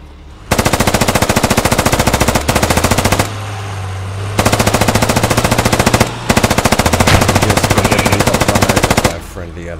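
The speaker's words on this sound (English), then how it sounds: "I'm just gonna shoot bullets in some direction and see how many people shoot in that same direction" Loud, close automatic gunfire in the video game Squad, long rapid bursts with short pauses between, several sustained strings of shots over a low background hum.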